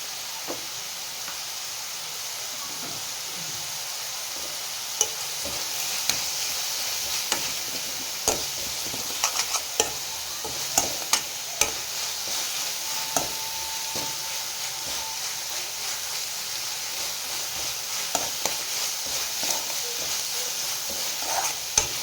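Masala paste frying with onions, a continuous hissing sizzle with repeated scraping and clicking strokes of a spoon stirring in the pan, close and fairly loud throughout.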